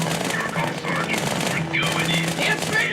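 Two submachine guns firing at once in Halo 2, a dense, continuous rattle of rapid automatic gunfire, loud and close, with a voice talking over it.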